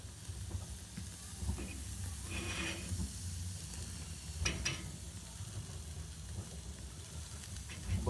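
Tri-tip sears over direct heat on a Weber kettle grill, a soft steady sizzle and hiss with a few brief scraping clicks from tongs, fairly quiet and close, with no talking.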